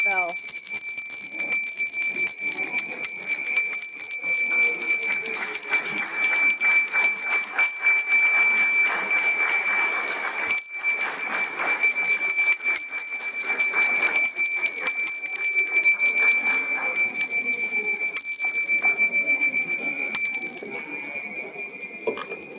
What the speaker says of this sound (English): take in your hands your little bell, and so we can proceed together with the adoption of the declaration by belling